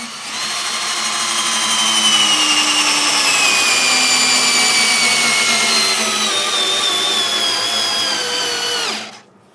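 A cheap 12V cordless battery drill drives a screw in first gear, its motor whining loud and close for about nine seconds with a pitch that slowly sinks under load before it cuts off abruptly.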